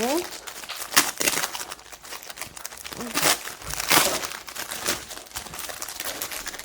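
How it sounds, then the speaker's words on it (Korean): Plastic wrapping being torn open from a large bakery loaf of Sungsimdang bread in Daejeon, with continuous close crinkling and tearing, with a voice speaking over it. "비닐도 뜯자"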